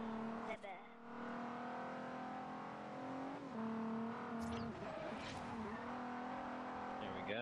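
A race car engine roars in the Forza racing game, a steady loud drone with shifting pitch through gear changes and brief tire squeals, while someone talks over it.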